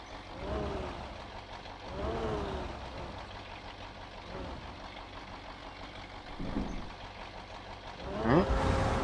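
A truck in the off-road driving game Spintires maneuvers into a parking spot, its engine droning at low idle with a few rising revs and a louder burst near the end.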